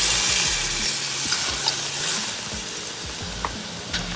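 Thick roasted coconut gravy sizzles in a hot clay pot while a spoon stirs and scrapes, with soft clinks and a steady bubbling hiss close by.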